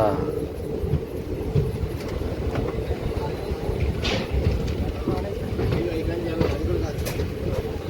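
A superfast express train arriving at Nalgonda railway station, a steady low rumble of rolling wagons with faint clicking from the rails and a person talking over it.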